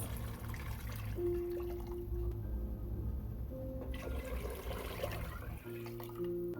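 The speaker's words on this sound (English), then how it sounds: "I'm going to add like 2 bowls of water" Two bowls of water pour into a pot of sautéed red onion for Indonesian bakso meatball soup, a continuous rushing, splashing stream that runs for several seconds, close and fairly loud.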